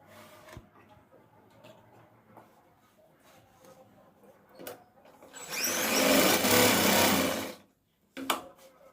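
A domestic sewing machine stitches a tuck along a blouse lining in one loud, continuous burst of fast needle whirring, preceded and followed by quiet handling sounds and soft clicks.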